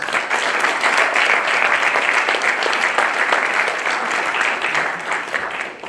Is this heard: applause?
yes